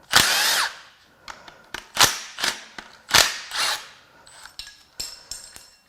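Power tool working on the timing chain tensioner at the front cover of a 2010 Toyota Corolla engine: several sharp short bursts of whirring and ratcheting in an irregular rhythm, close and loud, with no talk.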